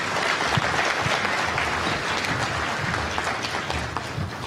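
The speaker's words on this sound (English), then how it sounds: "Another round of applause." An audience at an Eastern and Southern African Trade and Development Bank governors' meeting claps steadily, a dense continuous round of applause filling the hall for several seconds.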